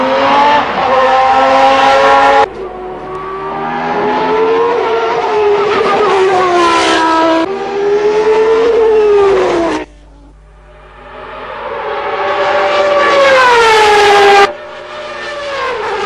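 A McLaren Honda Formula One car driven by Ayrton Senna: the loud, high-pitched racing engine screams and revs, its pitch climbing and dropping through repeated gear shifts, easing off briefly before roaring up again.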